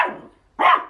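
A large guard dog gives two sharp, close barks about half a second apart, loud in an otherwise quiet moment.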